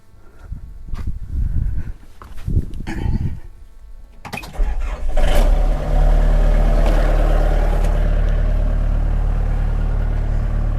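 A homestead tractor is handled with some rustling and knocks, then its engine cranks and catches, settling into a loud, steady low idle that rumbles on to the end.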